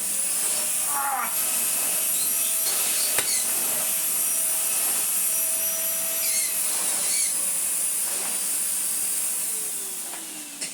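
A Numatic vacuum cleaner running on its high setting over a worn rug gives a loud, steady hiss with a constant whine, fading slightly near the end.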